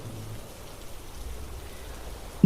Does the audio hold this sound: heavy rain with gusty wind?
yes